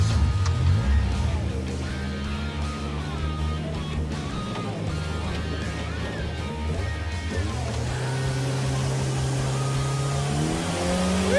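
A muscle car's engine revs loudly from inside while driving, the pitch climbing and dropping through gear changes in a steady, continuous roar.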